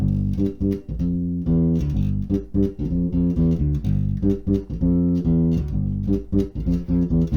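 A bass guitar plays a syncopated funk line alone, with punchy, rhythmic plucked notes repeating in a steady groove.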